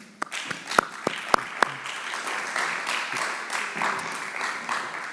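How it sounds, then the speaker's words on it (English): Audience applause for a conference's crew and staff: a few sharp, close claps at first, then a steady wash of clapping from the crowd that holds on evenly. "Round of applause for all of them."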